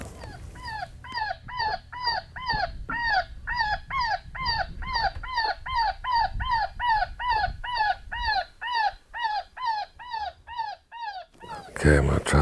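An electronic predator caller plays a cottontail rabbit distress call outdoors in West Texas, a long run of loud, rhythmic, pitched squealing cries repeated steadily for many seconds, then a burst of noise at the end.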